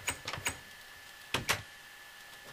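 A wooden door in Minecraft opens and closes with two quick clusters of dry, faint clicks separated by about a second of near quiet, with no voices.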